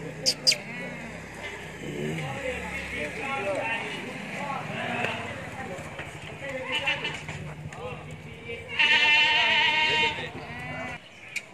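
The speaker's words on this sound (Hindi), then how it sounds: "ये बकरी है इसके 2 बच्चे ये वाले" White Rajanpuri goats bleat at a farm or animal market, with short calls early on and a loud, wavering bleat near the end, heard under steady talking and some background clatter.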